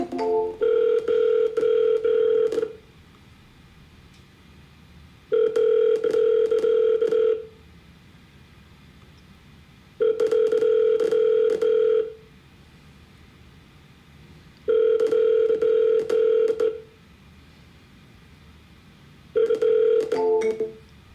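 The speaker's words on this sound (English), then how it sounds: "Like I picked up on the second call, not the first one, so double dialing is definitely a key here." Telephone ringback tone during an outbound sales cold call, repeating as five evenly spaced electronic rings about two seconds long with quiet gaps between them, clear and alone.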